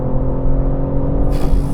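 A BMW M3 engine revs hard under acceleration, a loud, steady, close droning roar with strong low harmonics and a brief brighter burst near the end.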